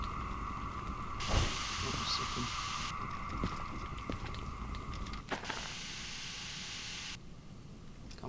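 SH282 steam locomotive in the Derail Valley video game venting steam: loud broadband hissing bursts that switch on and off in several long blasts, over low mechanical rumble and clanks.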